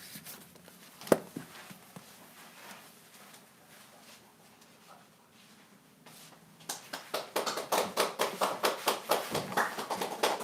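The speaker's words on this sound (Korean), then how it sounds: "여러분 뜨거운 박수로 환영해 주시기 바랍니다." At a Sunday church service, a small congregation claps steadily to welcome the pastor, a rhythmic burst of applause near the end after quieter room noise and a single sharp tap.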